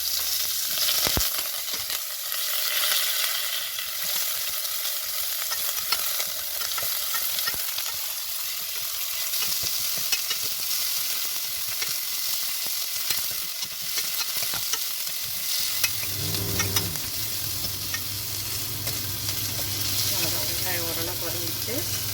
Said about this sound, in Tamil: வெங்காயம் கருவேப்பிலை போட்டுக்கலாம்